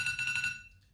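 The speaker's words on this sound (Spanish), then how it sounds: "salió una alarma que es necesaria" A mobile phone alarm goes off indoors, a bright electronic tone pulsing rapidly for about half a second before cutting out, close and moderately loud, over a low background hum.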